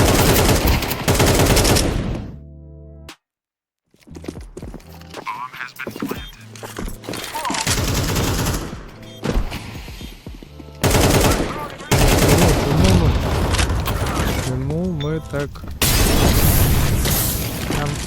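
Counter-Strike 2 match audio is dense with rapid gunfire bursts, booming explosions and thuds, loud and nearly continuous apart from a short silent gap, with people talking over the action.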